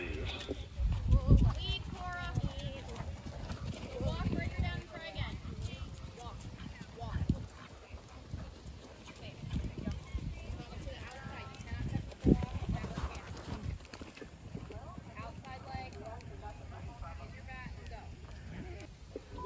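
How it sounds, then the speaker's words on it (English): Rhythmic hoofbeats of cantering horses thud repeatedly across a horse show arena, mixed with background voices and crowd noise. "Canter your horses, please."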